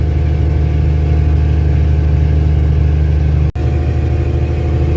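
An old dump truck's engine labors steadily up a long hill in the slow lane, a loud continuous low drone with a brief dropout near the end and no talking.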